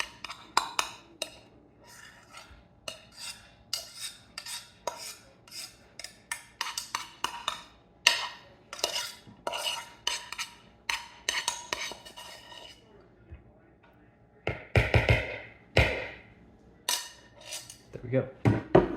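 Fluffed rice is scooped into a bowl with a utensil, producing a run of clinking, scraping taps against the dish, close and fairly busy, with a brief quieter pause before louder knocks near the end.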